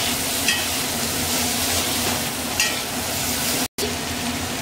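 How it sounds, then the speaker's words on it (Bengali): Steady sizzling of potatoes frying in a pan with turmeric and salt for flattened-rice pulao, continuous and close with occasional stirring scrapes, cut by a brief dropout near the end. "আলুটা আমি ততক্ষণ পর্যন্ত ভাজবো যতক্ষণ আলুগুলো কড়াকড়ি ভাজা না হয়"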